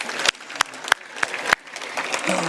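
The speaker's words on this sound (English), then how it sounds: "How about one more round of applause for the Marriott chefs and staff?" Luncheon guests at a Marriott symposium applaud the chefs and staff. A few sharp, evenly spaced claps ring out close by over softer background clapping, which fades within a couple of seconds.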